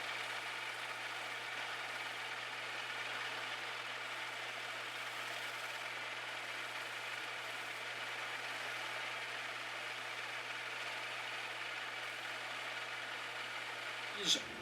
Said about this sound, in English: So I'm using the sander to trim this back.